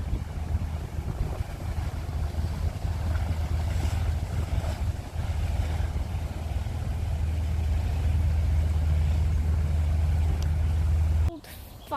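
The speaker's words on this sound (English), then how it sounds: "Look at this fast boat." A fast boat passes on the water during a nature walk in York, its engine a steady low rumble mixed with wind noise, ending abruptly.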